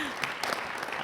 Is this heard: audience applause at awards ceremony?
yes